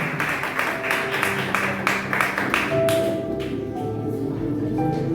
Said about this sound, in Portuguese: As palmas glorificam o Senhor, amém?